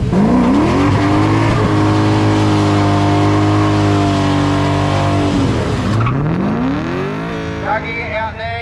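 Small block Chev drag car doing a burnout in a dragway burnout box: a loud, sustained engine roar with screaming tyre spin, the revs dipping near the end and then climbing again.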